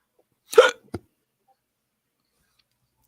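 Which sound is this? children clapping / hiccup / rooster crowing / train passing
hiccup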